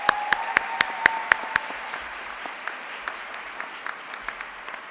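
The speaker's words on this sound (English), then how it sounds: "applause for everybody here." Applause from an audience at a winter college graduation ceremony, opening with several sharp, distinct claps near the microphone over a steady wash of crowd clapping that gradually thins and fades.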